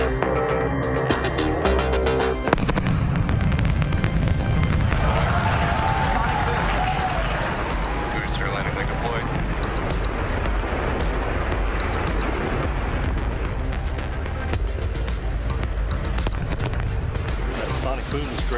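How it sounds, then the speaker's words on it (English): Sonic booms from a SpaceX Falcon 9 booster returning after the Crew-10 launch, heard as a sustained loud thunderous rumble with crowd noise and cheering throughout, a sharp onset near the start. "That sonic boom is great for us."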